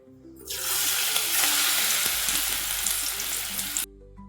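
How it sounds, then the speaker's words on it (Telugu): Ajwain leaf pakoda batter drops into hot oil, and a loud, close, bubbling sizzle bursts in and holds steadily for a few seconds before cutting off abruptly, with no talking. "నూనె వేడెక్కిందో లేదో చూసి పకోడీ వేసుకోవడమేనండి."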